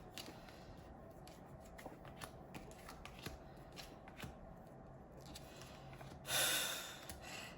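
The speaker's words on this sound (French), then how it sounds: "Je vais mettre les cartes, je vais me lever et puis je vais faire une pétale." Tarot cards are handled and laid out, giving faint soft snaps, slides and clicks in a quiet room, with a brief louder rustle near the end.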